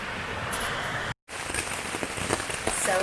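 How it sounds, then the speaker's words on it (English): Heavy rain pours down on a backpacking camp in the 100 Mile Wilderness along the Appalachian Trail, a dense, steady hiss of drops that drops out for a split second and then resumes just as loud. "It's pouring down rain, so lesson learned."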